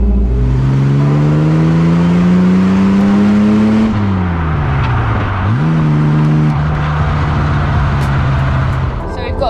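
A 1963 Jaguar E-Type's engine and exhaust drone loudly from close by while driving, its pitch climbing under acceleration, dipping at a gear change, then holding a steady cruise.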